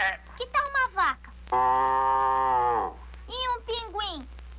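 In a Portuguese-dubbed film, a child imitates a cow with one long, drawn-out voiced moo lasting over a second, set between brief bits of speech.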